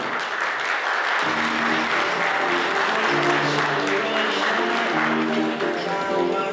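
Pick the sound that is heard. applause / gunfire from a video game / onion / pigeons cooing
applause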